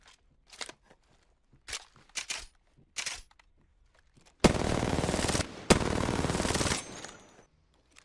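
Twin R99 submachine guns in the video game Apex Legends firing two long, loud, dense bursts of rapid automatic fire, preceded by scattered short clicks and handling noises.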